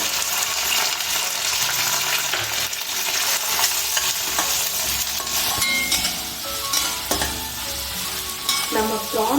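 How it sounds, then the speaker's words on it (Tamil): Garlic and curry leaves sizzle loudly in hot oil for prawn thokku, a dense continuous frying hiss broken by the scrape and clink of a stirring spoon against the pan. "நல்லா தெரிஞ்சதும் பூண்டு ஆட் பண்ணிக்கோங்க"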